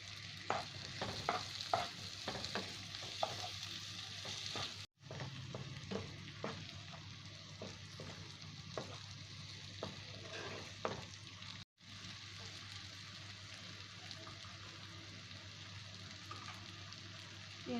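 Spices being stirred in a frying pan for an omelet curry, a steady loud sizzle with scraping strokes of the spoon, broken by two brief silent gaps.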